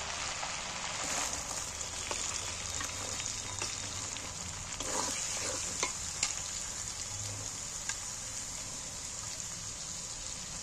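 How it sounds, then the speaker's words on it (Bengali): Chopped onions go into hot oil in a pan for a chicken and potato curry, sizzling and frying steadily with a few scrapes and stirring knocks, without talk. "এবার আমি কাটা পেঁয়াজগুলো এর মধ্যে তুলে দিচ্ছি।"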